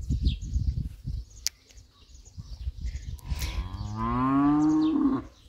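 A cow lets out a long, drawn-out moo at a moderate distance on a village farmstead, following a stretch of quiet rustling outdoor ambience.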